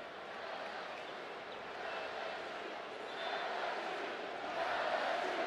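Football stadium crowd at Florida versus LSU building into a steady distant roar on third and long, growing gradually louder toward the end.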